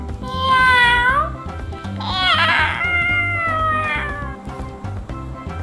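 A voice imitates a cat, drawing out several high, wavering meows in a row, loud and close, over a low background hum.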